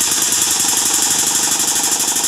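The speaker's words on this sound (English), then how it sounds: "I start the pump, that thing's going to jump" A Sames Kremlin paint pump cycles loudly and steadily, a continuous mechanical chugging with a fast repeating pulse, close up and alone with no talk.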